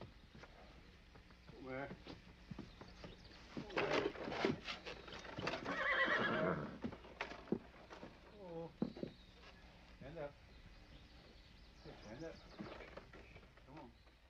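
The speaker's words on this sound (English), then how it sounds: "It's not always done as gently as this. Some cowboys break horses with lead pipes." A mare being broken for saddle on a ranch neighs and whinnies loudly several times, with scattered hoof clops and thuds between the calls and a narrator's voice heard intermittently.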